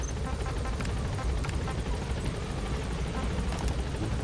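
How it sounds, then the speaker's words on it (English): A helicopter in Metal Gear Solid V drones with a steady, loud rotor roar and a deep, continuous low rumble. Faint higher ticks sit on top, and the sound holds without a break throughout. "You have to take a helicopter to it."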